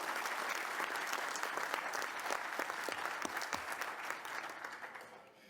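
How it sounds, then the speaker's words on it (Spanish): Audience in the Senate applauds a Nobel Peace Prize laureate at an agreement-signing ceremony, a steady wash of many hands clapping at moderate distance, fading away at the very end. "Un aplauso muy fuerte para Rigoberta, Premio Nobel de la Paz."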